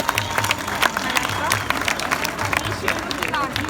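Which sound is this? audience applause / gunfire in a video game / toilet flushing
audience applause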